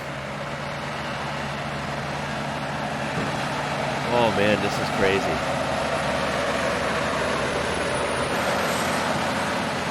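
Heavy transport truck and support tractor engines hauling a 475-tonne transformer through narrow streets drone loudly nearby under strain, a constant low rumble, while a person briefly speaks over the noise.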